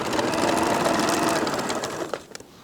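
Serger stitching tape onto quilt-as-you-go quilt fabric, a steady close, loud mechanical whir running continuously for about two seconds before slowing and stopping with a few clicks.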